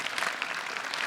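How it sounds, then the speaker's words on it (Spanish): A church congregation applauds, a brief, fairly quiet burst of many people clapping together. "Aplauda, vamos."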